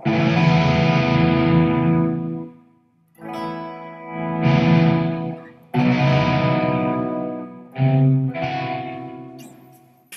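Clean electric guitar chords ring out with heavy reverb, several strummed phrases each decaying into a wash of echo.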